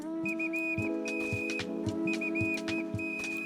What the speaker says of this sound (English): I will whistle at you menacingly with my new mount